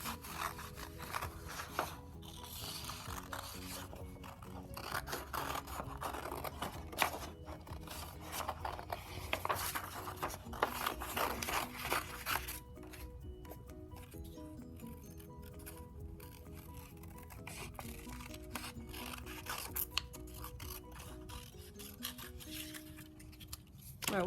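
Scissors snip out a paper bird in a rapid series of quiet cuts and rustles that continue close by over the whole stretch, with no voices.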